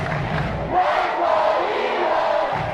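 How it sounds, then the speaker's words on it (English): A high school football crowd roars in the stands during a game against Waiakea, a sustained loud mass of voices cheering that swells slightly midway and holds. "Crowd's going to help them."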